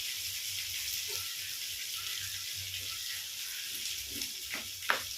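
Eggplant sautés in oil for chutney, a soft, even sizzle with a few scrapes and clinks from stirring near the end.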